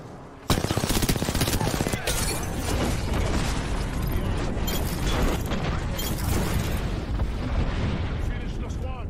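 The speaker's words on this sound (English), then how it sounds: "Signaling an airstrike." Airstrike explosions in the video game Apex Legends, a sudden onset of dense, rapid booms and crackling blasts rolling on continuously, loud and close.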